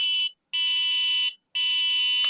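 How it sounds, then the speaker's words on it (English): A V686 drone controller in headless mode gives loud, shrill, electronic beeps, each lasting close to a second, separated by brief silences and repeating steadily, with no voices. "a long press on this button here gives you the headless mode. You get a horrible beeping sound there that doesn't turn off."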